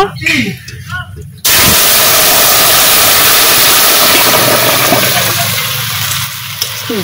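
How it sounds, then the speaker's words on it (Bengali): Curry poured into hot oil tempered with dried chili and whole cumin, an abrupt loud hissing sizzle that starts suddenly after a voice and stays strong, slowly easing off. "এখন আমি তরকারি ঢেলে দেব।"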